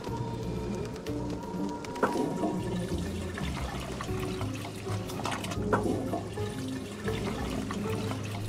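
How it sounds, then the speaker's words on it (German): Toilet flushing in the video game Goodbye Deponia, a steady rushing and pouring of water with gurgling bursts, heard alone and fairly close for several seconds. "Das ist nur die Spülung. Vielleicht muss ich die einfach ein paar Mal drücken."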